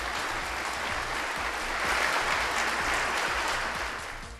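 An audience applauds during a political speech: sustained, dense clapping from a crowd that swells toward the middle and then gradually tapers off.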